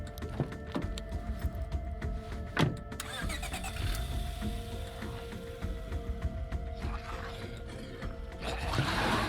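A car engine in the video game Lethal Company cranks and turns over amid steady game ambience, then settles into a low idle rumble with faint mechanical clicks.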